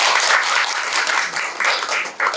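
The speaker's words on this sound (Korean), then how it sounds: "다시 한번 박수 부탁드리고요" Audience applause at a National Assembly Library colloquium on AI legislation, a loud, dense patter of many hands clapping that holds steady for a couple of seconds.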